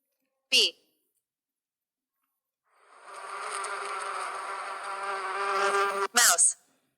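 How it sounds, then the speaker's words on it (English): Bee buzzing in a steady, close drone lasting about three seconds, with a spoken word before it and a short voiced sound after. "Bee."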